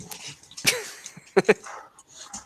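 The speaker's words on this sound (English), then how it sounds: "dog freaking scratched on my door to be let back in" Dogs indoors whine and make faint yelps, with a couple of sharp close bursts that may be scratching at a door, in a quiet room with a voice faintly audible in the background.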